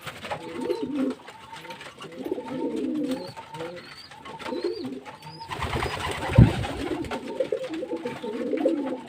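Pigeons coo in a low, repeated murmur while drinking water from a bowl, a steady run of soft calls with a brief louder rustle of wings or movement near the middle.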